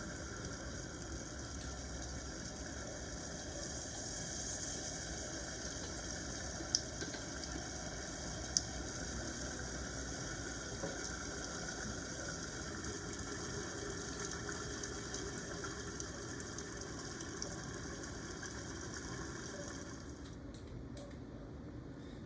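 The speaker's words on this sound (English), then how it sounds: "When the coil is cooled by dipping it into liquid nitrogen, the brightness of the bulb increases dramatically." A coil is dipped into liquid nitrogen, which boils with a steady, close bubbling hiss that runs unbroken for about twenty seconds before thinning out near the end.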